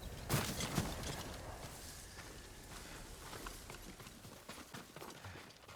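Horse hooves clip-clopping in the Ghost of Tsushima video game, a brisk patter of steps heard at moderate distance over a steady ambient bed, with no talk.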